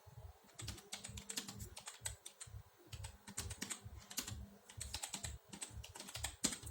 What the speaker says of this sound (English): Then type the text you want to display here.